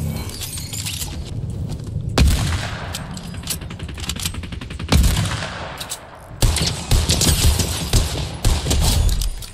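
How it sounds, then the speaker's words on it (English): Fortnite gunfire crackles in rapid bursts and single sharp shots, some near and loud and others further off, with busy overlapping fusillades throughout and no talk. "Someone was shooting at me."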